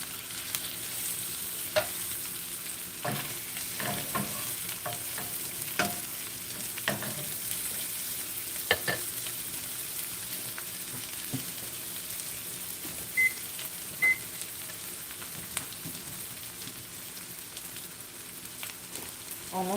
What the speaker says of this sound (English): The point of toasting these with the mayo is to get them crispy